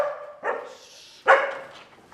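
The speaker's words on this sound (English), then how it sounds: "No barking, no." A dog lets out two close, loud barks a moment apart, each one sharp at the start and then tailing off into a short whine.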